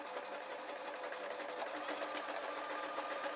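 A sewing machine stitches a fabric dwarf hat in a steady, continuous whir that stays even and close throughout, with no voices.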